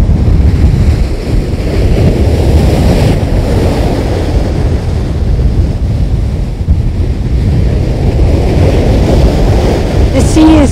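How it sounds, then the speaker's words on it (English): Powerful Mediterranean storm surf roars and churns continuously close by, with heavy wind buffeting the microphone throughout. "The sea is just boiling with energy."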